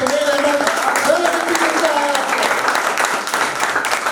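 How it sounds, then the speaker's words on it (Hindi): An audience applauds steadily at the Kaun Banega Sabse Tez senior quiz at Araria Public School, a dense wash of clapping with voices calling out over it, holding at an even level throughout. "एक बार तालियों की गड़गड़ाहट से"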